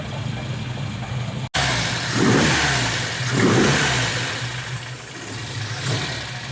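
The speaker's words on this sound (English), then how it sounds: "Boy, is that a nice idle or what?" A vintage Volvo engine with Weber or Mikuni carburetors and no choke runs at a steady, slightly lumpy idle, close and moderately loud, with a brief dropout and a couple of mild swells in engine note.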